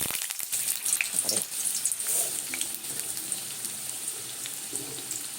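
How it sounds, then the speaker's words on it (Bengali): Chopped vegetables such as pumpkin and carrot fry in hot mustard oil in a wok. The steady hiss and crackle is close and continuous, with faint kitchen clatter. "এবারে সমস্ত সবজিগুলোকে আমি টুকটাক করে ভেজে নেব।"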